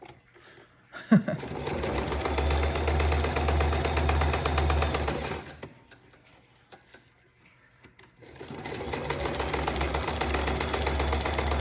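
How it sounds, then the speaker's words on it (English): Straight stitches are sewn around the edges of a paper pocket insert for a rustic coffee-dyed journal on a sewing machine. It runs in a close, steady whir, pauses briefly in the middle, then starts stitching again. "I'm just going to sew right around the edges, right here, all the way around"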